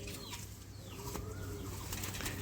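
Panja pigeons coo in low, soft, rolling calls over a busy loft backdrop, with faint chirps and a brief wing flap.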